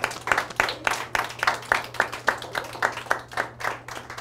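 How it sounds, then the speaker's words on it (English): Applause at a New York City Council campaign headquarters grand opening: a modest crowd clapping in an uneven pulse, close and fairly loud, over a steady low hum. "So let's give him a round of applause."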